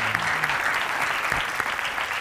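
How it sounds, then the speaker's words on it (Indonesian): A studio audience claps in a dense, steady burst of applause, close and fairly loud, with scattered individual hand claps standing out. "Tepuk tangan sekali buat Pak Tarmedi."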